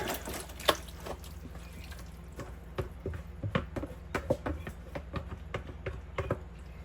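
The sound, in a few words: pouring squash casserole mixture into lined baking pan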